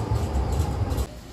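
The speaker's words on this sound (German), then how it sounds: "Hinter mir habt ihr das Bahnhof" Trains at the station in Dresden rumble loudly and continuously, then the sound cuts off abruptly near the end.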